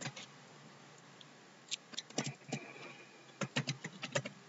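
Code is typed on a computer keyboard in quick bursts of close, light key clicks separated by short pauses, with no talking.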